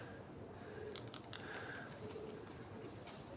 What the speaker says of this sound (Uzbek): Jinni bu kaptarlar.